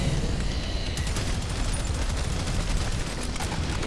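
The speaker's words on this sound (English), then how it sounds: "sweet. Double machine gun." Double machine guns blaze nonstop in the shooter Prodeus, a dense, loud, unbroken roar of overlapping rapid fire that holds steady from start to finish.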